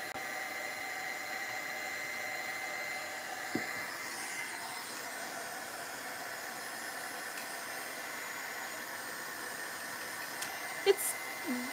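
A hair dryer runs steadily over a mixed-media artwork, an even, low-level whooshing hum that holds unchanged throughout, with a couple of faint knocks and clicks near the end.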